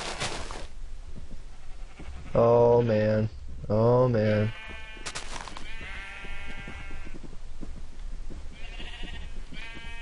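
Sheep bleating in the video game Minecraft, two loud, close, wavering bleats in quick succession, with someone talking before and after amid other game sounds.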